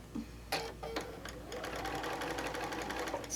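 A sewing machine stitches rows of layer-cake quilt pieces, starting with a few short bursts and then running steadily at close range with a busy mechanical whir. No one speaks.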